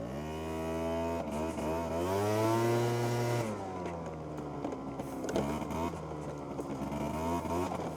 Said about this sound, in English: I hope the engine note is good on the mic.